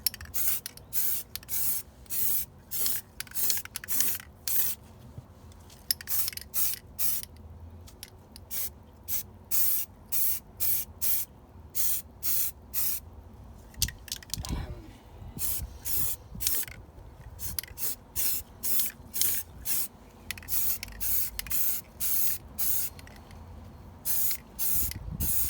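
Spray paint hisses onto an O gauge clockwork model locomotive in short, repeated bursts, each sharp aerosol blast lasting about a second with brief gaps between, close and loud throughout.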